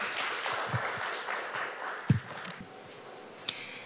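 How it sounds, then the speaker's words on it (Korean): Applause from a conference audience welcoming a speaker, a fairly faint, steady patter of clapping that fades out over a few seconds, with a couple of sharp knocks. "박수로 맞이해 주십시오"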